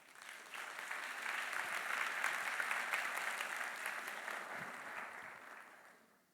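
Conference audience at the RSS 2024 robotics event applauding to welcome a speaker, a steady wash of clapping that swells, holds for several seconds, then fades out, with no voices over it.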